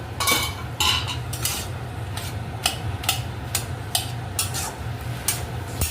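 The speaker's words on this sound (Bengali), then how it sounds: "এবার ঢাকনা খুলে ফেলা হচ্ছে বন্ধুরা" A metal lid lifted off a pot of simmering vegetarian kochu loti (taro stolon curry), with a run of clinks and scrapes over a steady low hum of cooking, close and fairly loud, no voices.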